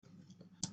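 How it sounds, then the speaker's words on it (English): A mouse click on a computer, two quick soft clicks close together at the end of a short, quiet stretch of faint room noise. "To create a project, click on the New Project button."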